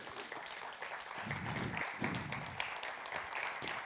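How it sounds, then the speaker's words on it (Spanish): A church congregation claps for a few seconds, a moderate, somewhat distant patter of applause that swells and holds, with no speech over it. "Yo quiero que tú le des un fuerte aplauso al Señor Jesús."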